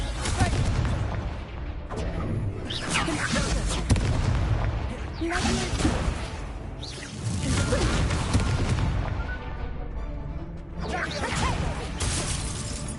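Spell blasts in a Harry Potter video game battle: repeated booming, crackling magical explosions and impacts in dense bursts, loud and close, with shouted spell names over the clash.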